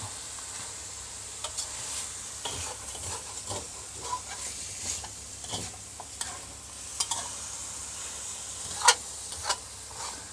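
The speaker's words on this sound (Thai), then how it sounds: "ผัดให้ไฟลุกท่วมกระทะเลยยิ่งอร่อยครับ" Steady sizzling with scraping and stirring clatter, a spatula stir-frying minced pork around a hot wok over high flame, with occasional sharper metallic knocks; no talking.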